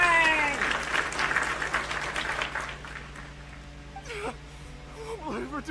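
Applause in the Genshin Impact video game: a burst of clapping from in-game characters, mixed with bright voices and fading into quieter chatter.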